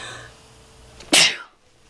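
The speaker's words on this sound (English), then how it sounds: "I have to sneeze." A single loud, close sneeze from a person: a brief quiet intake, then one sharp explosive burst that cuts off quickly into silence.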